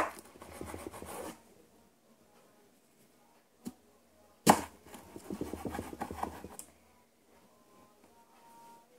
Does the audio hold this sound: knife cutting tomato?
yes